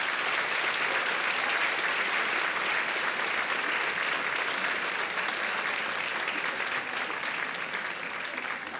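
An audience at a performance in a Santiago theatre applauds for Patricio, a dense, sustained clapping from a large crowd that holds steady and fades only slightly at the end.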